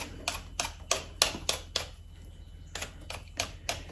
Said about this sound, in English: Peeling some sweet potatoes.